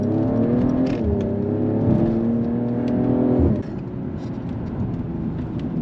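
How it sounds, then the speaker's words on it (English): A Mercedes-AMG car accelerates hard with a rising, harmonic engine note, then a downshift drops the pitch around the middle before the engine settles into a lower, steady drone. "you get this type of acceleration coming out of it. Downshifts for you."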